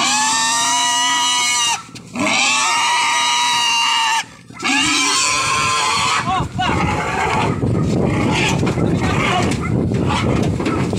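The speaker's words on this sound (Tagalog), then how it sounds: "Mama Pig." Pigs on a livestock truck during a hog buying trip, loud close squealing and grunting in long, harsh bursts with brief pauses, turning into rougher, noisier squeals toward the end.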